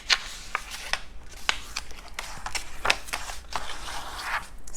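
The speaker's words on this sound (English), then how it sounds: "Sorry for all the paper sound." Paper and cardstock for a handmade book box card are handled and folded, giving a series of sharp crinkles, scrapes and snaps at an irregular pace, close and fairly quiet.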